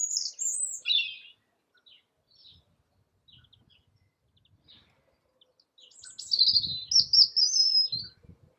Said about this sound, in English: notice any bird song, the leaves blowing in the breeze.